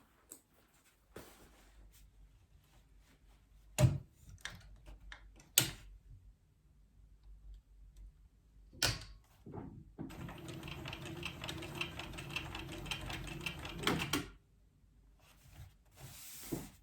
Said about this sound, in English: So I'll stitch the top first, flip the pocket piece up and then top stitch the bottom.